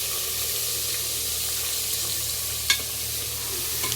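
Spices sizzle in hot oil with a steady crackling hiss, close by, and a faint clink of a utensil partway through.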